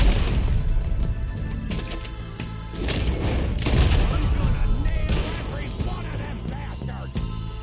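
Gunshots fired for headshots in Red Dead Redemption 2, heavy booming reports scattered through dense battle noise, loud and near, with someone talking at times over the shooting.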